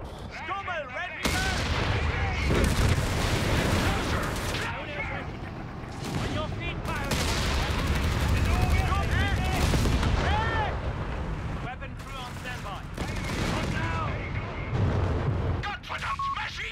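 Machine gun bursts and heavy artillery blasts fill a Company of Heroes 3 battle with Stummel and StuG vehicles, loud and continuous for the whole stretch, with voices calling out over the gunfire.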